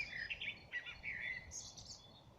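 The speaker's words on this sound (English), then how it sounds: "Very nice singing bird." A small bird sings outdoors in a quick series of high chirps and warbled phrases, moderately near but soft against a quiet background.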